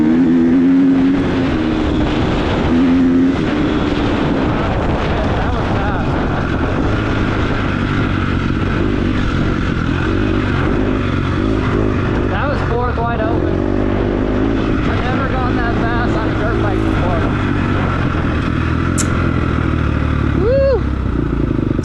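A dirt bike engine run wide open in fourth gear on an off-road ride day in Lometa, Texas, gives a loud, sustained roar the whole way through with rushing wind noise, and its pitch climbs into a rising whine near the end.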